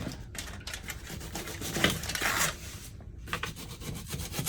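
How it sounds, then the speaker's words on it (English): A knife cuts two onions into rings on a board with a close, rapid series of crisp slicing and scraping strokes, steady and unaccompanied by talk. "I have 2 onions here for my family. I'm going to cut them"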